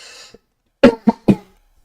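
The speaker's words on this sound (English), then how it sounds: "I coughed over that" A short breath, then three quick coughs in a row, close by and fairly sharp, followed by silence.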